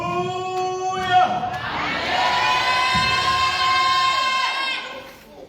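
Large congregation at an international church retreat cheering, whooping and shouting acclamations, a loud sustained crowd roar with bright overlapping voices that swells and then fades slightly at the end.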